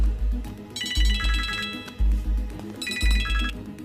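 A mobile phone ringtone chirps in two bright bursts of rapid electronic trills over a backdrop of rhythmic, thumping background music.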